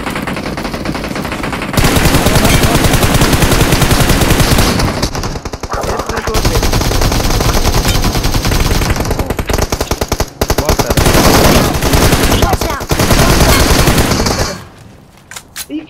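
Loud bursts of rapid automatic gunfire fill a BGMI battle-royale mobile game match, coming in long, dense volleys with brief gaps and tapering off at the end.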